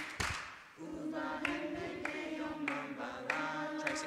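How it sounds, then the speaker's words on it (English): People clapping hands during a live-streamed Jewish prayer gathering, a sharp clap followed by a steady rhythm of roughly one clap every half second over sustained singing voices. "Clap, clap."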